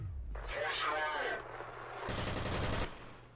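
Bursts of automatic gunshots from the first-person shooter F.E.A.R., fairly quiet and close, with someone talking in between the volleys.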